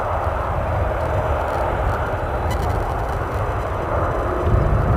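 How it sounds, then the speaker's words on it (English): A Ryanair Boeing 737 taxiing to the gate at Edinburgh airport makes a continuous low engine rumble and roar at steady loudness, with no talk. "Looking at a London Stansted Ryanair 737,"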